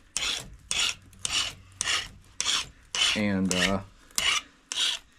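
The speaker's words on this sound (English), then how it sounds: "so I should probably sharpen my pressure flaker a little bit" A small steel pressure flaker used for flint knapping is filed sharp, giving a steady series of close, rhythmic rasping strokes, about nine in a row, with a brief tonal scrape partway through and almost no talk.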